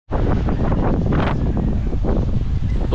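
Strong wind blowing from the south in the aftermath of Typhoon Tino over an urban garden, roaring steadily and buffeting the microphone with continuous loud gusts.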